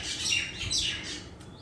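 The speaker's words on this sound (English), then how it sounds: "This bird." Bird chirps and tweets ring out in quick bright bursts, fairly close, with no talk and a soft low background hum beneath.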